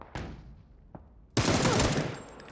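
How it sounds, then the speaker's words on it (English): Gunfire in a competitive shooter video game match: two quick single shots, then a dense, loud burst of rapid fire lasting over a second, with a commentator's voice faintly present. "Great headshot onto Gustav"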